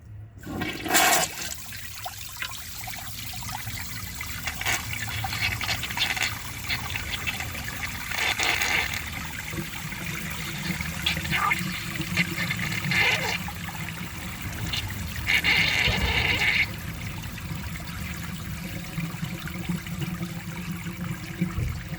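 Overfilled 1999 Crane Hymont toilet tank filling and siphoning, with a sustained rush of flushing and trickling water that runs continuously and close for over twenty seconds.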